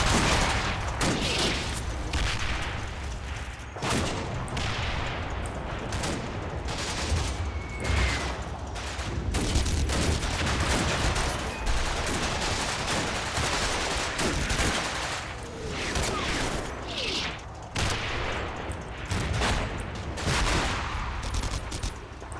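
Sustained volleys of gunfire from the WWII tactical game Combat Mission Battle for Normandy, dense overlapping rifle and machine-gun bursts with occasional heavier booms, loud and continuous throughout.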